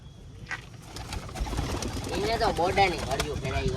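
Pigeons coo close by in low, throaty bursts, with a few voices and light rustling in the background.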